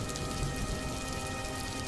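Steady rain falling in a village on a cold day, a dense, even patter of drops on surfaces that stays constant throughout with no thunder or voices.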